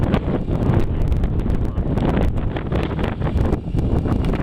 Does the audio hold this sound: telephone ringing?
no